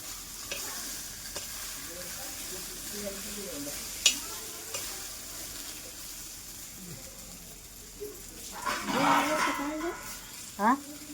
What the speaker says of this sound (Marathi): थोडासाच मसाला भाजलाय मी त्यात चांगला मासा टाकला की चांगला भाजून निघतो